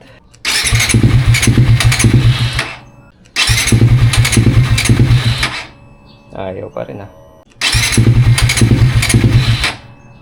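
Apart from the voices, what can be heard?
motorcycle engine starting and stalling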